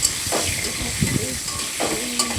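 Rice is stirred in a pot on the stove, with a few scraping strokes over a steady steamy sizzle and hiss, close and moderately loud.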